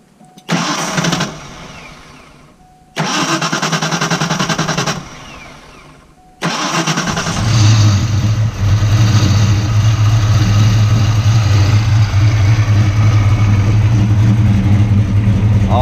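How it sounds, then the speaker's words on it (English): A Coyote-swapped Ford Fox body car cranks twice without catching, then fires up on the third try and settles into a loud, steady, slightly choppy idle that continues to the end, with no voices. "he's got the SSP car running. So he's gonna fire it up for us."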